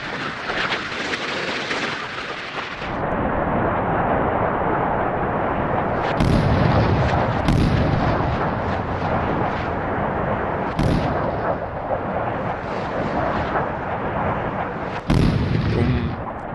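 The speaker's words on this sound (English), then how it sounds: "So they're all launching their missiles at once." A missile salvo launches in a naval warfare game set among Slava cruisers, Kirov battlecruisers and a Ticonderoga, a loud continuous roar broken by several sharp booming blasts, with no talk over it.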